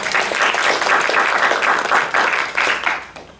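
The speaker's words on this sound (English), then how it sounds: "A round of applause, please" A seminar audience claps in a round of applause, a dense, steady patter of many hands that holds strongly and then tapers off toward the end, with no talking over it.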